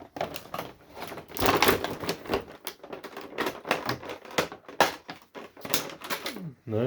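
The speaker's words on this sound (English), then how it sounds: "I have scissors. Let's get them open." Crisp scissor snipping and crinkling of action figure packaging, a busy run of short clicks and rustles with brief pauses, close by and fairly loud.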